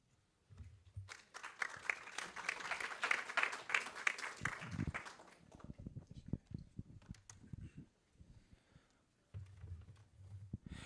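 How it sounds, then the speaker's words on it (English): A conference audience claps for an all-female panel at a climate leadership summit. The applause is moderate and spread out, swelling for a few seconds, then tapers into scattered claps and light room noise. "I would like to acknowledge this all-female panel with another round of applause"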